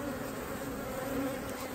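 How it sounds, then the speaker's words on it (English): Honey bees buzz steadily around queen bees held in cages in a queen bank, a close, continuous hum with no talk. "the bees are coming on up"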